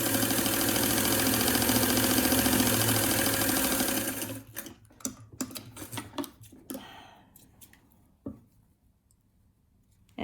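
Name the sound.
sewing machine sewing up face mask opening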